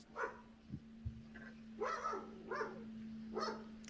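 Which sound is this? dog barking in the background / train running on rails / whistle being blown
dog barking in the background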